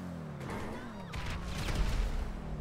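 Gunfire and explosions in the video game GTA V, a rough burst of booming bangs and crackling shots that swells in the second half, with a voice talking over the noisy game mix.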